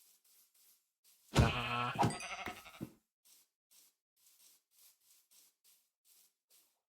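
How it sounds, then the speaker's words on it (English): A Minecraft sheep gives one loud, wavering bleat lasting over a second, with a short voice remark just after it and faint repeated clicks and taps following. "My sheep."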